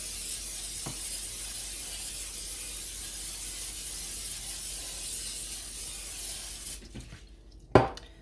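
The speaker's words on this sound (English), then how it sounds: "go ahead and take your sheet pan, spray it down really good" Cooking spray hissing steadily onto a sheet pan for eggs, a continuous close airy spray lasting several seconds, then stopping, followed by a couple of sharp clicks or knocks.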